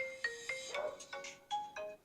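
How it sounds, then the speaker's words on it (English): A phone ringtone plays a short melodic sequence of bright electronic tones, a few notes per second, moderately loud and close with no talking over it. "Where's my ringtone?"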